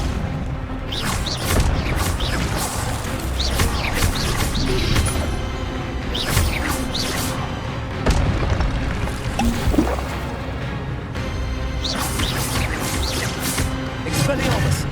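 Spell-casting combat effects from the Hogwarts Legacy video game, including the Expelliarmus disarming spell: a dense, continuous stream of whooshes, impacts and booming bursts, with shouted voices over the top.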